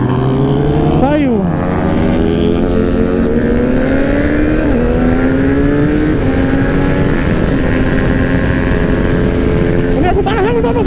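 A Yamaha R15 155cc and a Start 160 motorcycle race side by side, their loud engines revving and shifting through gears close by, with rising and falling whines throughout.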